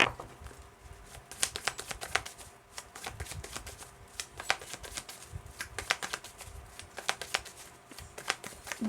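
Tarot cards are shuffled by hand in a quiet room, a close, continuous riffle of quick papery flicks and taps with no talking.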